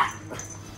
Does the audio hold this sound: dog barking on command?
yes